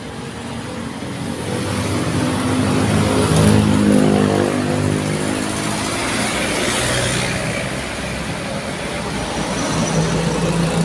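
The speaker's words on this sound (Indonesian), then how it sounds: "Macet panjang." Dense roadway traffic in a long jam behind a broken-down heavy tronton truck, with car and truck engines idling and revving close by in a steady rumbling wash, no talk.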